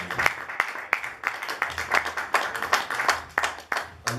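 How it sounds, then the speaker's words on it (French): A church congregation claps in a steady rhythm of sharp, fairly close hand claps, roughly three per second, with faint voices underneath. "nous acclamons encore le Seigneur"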